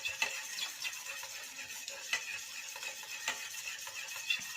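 Homemade aloe vera gel mixture being stirred in a small container, soft repeated clinks and scrapes of a utensil against the bowl at an irregular rhythm, close and fairly quiet with no talk.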